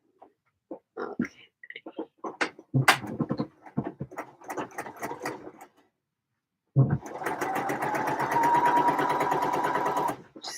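A sewing machine stitches a garment's center back seam in one steady, close, whirring run of about three seconds, after a stretch of scattered handling noises and a short pause.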